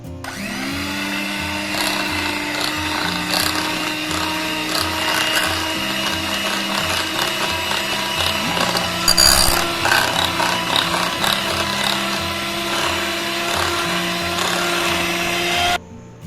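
An electric beater whips cream until stiff, its motor giving a steady whirring whine with a rattling, ratchet-like edge that shifts slightly in pitch as it runs for about sixteen seconds, then cuts off abruptly.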